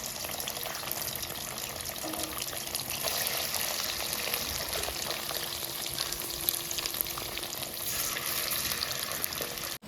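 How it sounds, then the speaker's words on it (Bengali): Cubes of paneer fry in a hot pan with a steady, close sizzle and crackle that holds evenly throughout, with no voices. "পনিরগুলো আমি ভেজে নেব"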